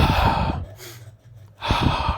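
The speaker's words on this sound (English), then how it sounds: "Let me breathe in, guys." Someone draws in a deep, audible breath and lets it out, two loud close rushes of air separated by a brief near-silent pause, with no talking.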